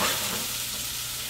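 Shallots sizzle steadily in hot bacon fat in a pan, a loud, dense frying hiss that runs unbroken with no talking over it.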